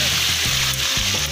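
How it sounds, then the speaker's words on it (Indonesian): Food sizzles and crackles steadily in a frying pan at a campsite, a loud, continuous hiss with occasional stirring scrapes and no talking. "Sekarang gorengan."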